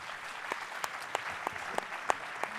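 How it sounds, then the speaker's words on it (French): After a round-table panel on the future of retail, a conference audience applauds: fairly faint, steady clapping from a smallish crowd, with a few sharper individual claps popping out at intervals. "On peut les applaudir très fort."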